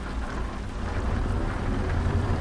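Rain in American Truck Simulator, a dense steady wash of falling rain with low rumbling from the truck, continuous and fairly loud, with no talking.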